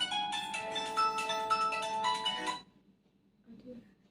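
A friend's mobile phone rings with a bright, repeating melodic tone, loud and close, for about two and a half seconds, then stops; a brief faint sound follows.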